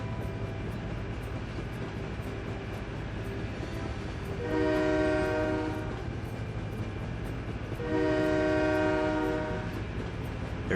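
Train horn in SimCity 4 sounding at a rail crossing, two long sustained blasts over a steady rolling rumble of the train on the tracks, with no talking.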